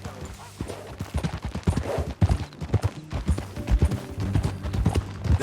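Horses gallop in Red Dead Redemption 2, hooves beating in a fast, uneven rhythm of rapid thuds, close and steady, with a voice speaking faintly over it.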